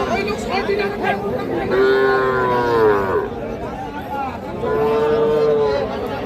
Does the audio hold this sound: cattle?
yes